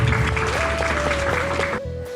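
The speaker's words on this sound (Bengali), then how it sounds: "সবাই ওনার জন্য জলে করতালি দেয়" An audience applauds the chief guest, a professor and college principal, at a farewell ceremony at Govt. Tolaram College in Narayanganj. The clapping is a steady, dense wash over a sustained tone and stops abruptly near the end.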